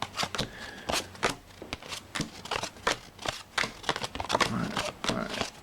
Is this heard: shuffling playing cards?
yes